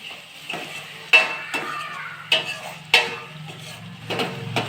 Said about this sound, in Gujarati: સારી રીતે હલાવી દઈશું બધું.